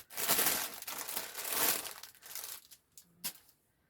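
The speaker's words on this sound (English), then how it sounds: "excuse the rustling because I'm going to open it." A tote bag bought at the NEC craft show is opened up close, giving loud crinkling and rustling of the bag in two long bursts, then a few softer handling sounds fading toward quiet.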